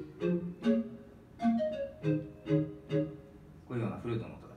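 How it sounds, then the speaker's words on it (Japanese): A Caribbean-style pan flute patch on a Korg Krome synthesizer plays a short tune of breathy, rounded notes with soft puffed onsets, ending in a quick flurry of notes. "あとこのパンフルートって言われてるもうちょっとカリビアンの音の"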